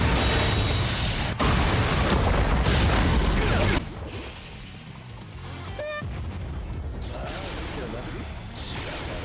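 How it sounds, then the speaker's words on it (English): A soul bomb detonates in the mobile game Bleach Brave Souls, a loud, dense burst of explosive game effects that dies away into a lower layer of battle noise with a few bright chime-like tones. "we should be good to pop the soul bomb, and that should just finish off this side portal"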